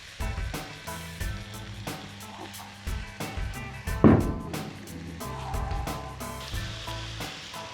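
Chopped onion sizzles steadily in a hot pan for Thai shrimp curry (goong pad pong karee), a continuous close frying hiss with a brief louder burst midway, over a faint tonal background.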